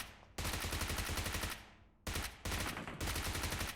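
Rapid automatic gunfire in the video game PUBG on the Erangel map: two long, loud, close bursts separated by a brief pause, a final short burst, and no voices.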